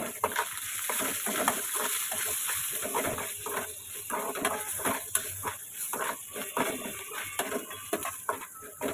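Pulihora being stirred in a pan with salt and turmeric, a soft steady sizzle with repeated light scraping strokes, fairly quiet and close.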